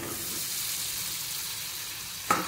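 Boiled potato pieces go into frying masala in a pan, giving a steady close sizzle that holds evenly, with a brief sharp clink near the end.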